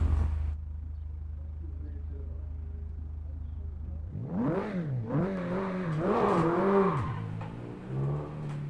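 Doğan SLX car engine driving in the video game Assetto Corsa on the Şile road: near-silent low hum, then from about four seconds the engine revs up and down in several rising and falling sweeps, loud and close, with a steady drone behind.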